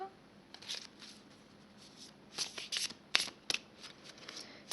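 Oracle cards are shuffled and drawn from the deck in a run of crisp, close riffling bursts that start softly and grow busier toward the end, with no voices over them.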